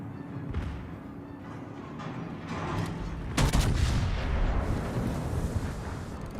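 A warship's main guns fire in World of Warships, a heavy boom landing mid-clip over a low rumbling sea-battle backdrop, with lighter distant reports before it and no talking.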